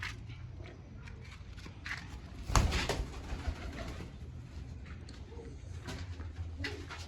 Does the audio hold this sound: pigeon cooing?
yes